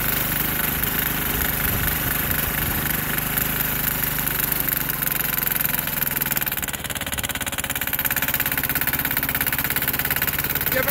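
A Sears Suburban garden tractor with a 6 hp diesel engine clatters steadily at close range while working through heavy snow with a plow, its low knocking throb even and unbroken, briefly dipping in load partway through.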